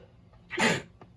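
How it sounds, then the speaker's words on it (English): A single sharp sneeze bursts out in the middle of an otherwise quiet moment, close and brief. "Oh, I have to sneeze."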